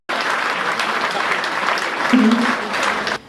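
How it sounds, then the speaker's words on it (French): An audience bursts into strong, dense applause that holds steady, briefly joined by a low voice near the end, then cuts off abruptly. "On peut les applaudir"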